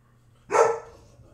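A single dog bark, sharp and fairly close, rising out of a quiet indoor room with a low electrical hum in the background, then fading quickly, with no one talking.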